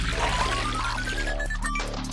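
Water pouring into a reservoir in an Android indie puzzle game, a steady close trickling flow with a rising bubbly tone over a constant game music bed.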